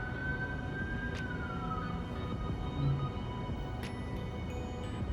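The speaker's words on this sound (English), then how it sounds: "There's a siren in the background" A wailing emergency vehicle siren rises and falls faintly in the distance, sitting low beneath steady background noise indoors.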